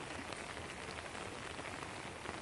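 Rain pouring down outdoors, a dense, even hiss of drops on surfaces, steady and close for the whole stretch with no voices.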